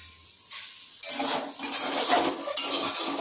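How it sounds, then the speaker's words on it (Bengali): Potatoes fry in a pan in a home kitchen. After a quiet start, a hissing sizzle rises sharply and continues, mixed with clinks and scrapes of the utensil against the pan. "আলু ভাজা এদিকে বসিয়ে দিয়েছি।"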